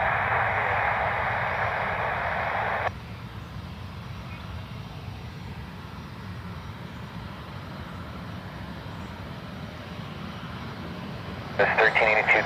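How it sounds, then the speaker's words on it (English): A Delta airliner taxis out at Cleveland Hopkins airport, its engine rumble low and steady beneath bursts of radio chatter at the start and end. "Delta taxiing out for their departure on their way to Atlanta."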